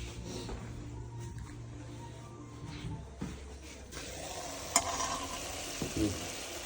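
A tadka crackling in hot oil in a pan, a soft continuous sizzle with a few sharp pops and a brief stir, close but fairly quiet, with no voices.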